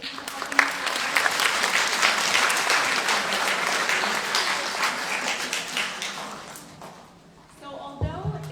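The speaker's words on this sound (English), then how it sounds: "So give yourselves a round of applause." An audience at an art and poetry celebration breaks into loud, sustained applause that thins and fades toward the end, leaving a few scattered claps and brief room noise.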